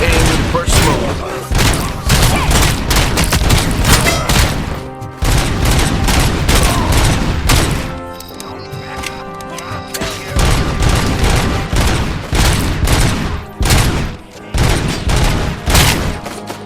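Gunfire in the Robocop Rogue City game, heavy shots fired in repeated loud bursts with short gaps between them and booming impacts.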